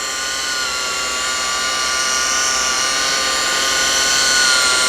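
Cheap cordless battery-powered polisher running at full power, a loud, steady, close high-pitched motor whine with a broad hiss that keeps going without a break and rises slightly in level.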